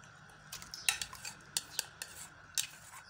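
Half a kilo of minced meat (keema) goes into a cooking pot. Light metallic clinks and taps of a utensil against the pot are heard close up, a scattered handful over a few seconds.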